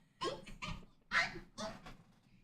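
A pet dog whimpers and whines in short, soft bursts, about four quiet yelps close by with brief gaps between them.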